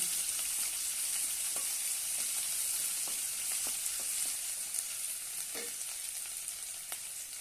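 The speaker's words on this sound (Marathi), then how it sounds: "एक कांदा बारीक कट केलेला आहे तो घालूया छानपैकी परतून घेऊया" Finely chopped onion sautéing in a pan for bitter gourd masala gives a continuous bright sizzle, close and even throughout, with occasional faint scrapes of stirring and no talking.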